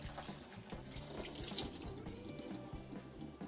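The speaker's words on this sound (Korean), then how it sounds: "이렇게 해서 이제 한 번만 더 헹궈주면 됩니다" Tap water runs steadily into a kitchen sink while seaweed (miyeok) is rinsed by hand, a close, continuous splashing with small irregular surges and no talking.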